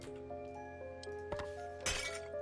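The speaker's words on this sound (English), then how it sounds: "It was the sound of porcelain breaking on the floor." A porcelain teacup slips and shatters on the floor in the video game Undusted: Letters from the Past, a bright crash and scatter of shards rising over a sustained tonal music bed after light clinks.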